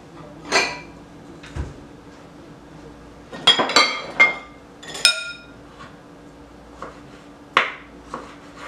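A bowl is handled in a home kitchen while vegetables are prepared, giving several sparse, sharp clinks and taps of dishes, close and separated by quiet gaps.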